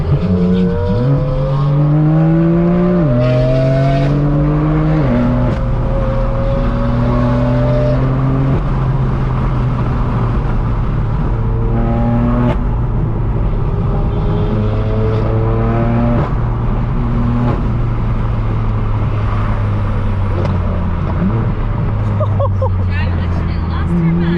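A straight-piped, catless BMW M4 F82 exhaust drones and revs loudly through gear changes, rising and dropping in pitch, with people talking over the engine throughout.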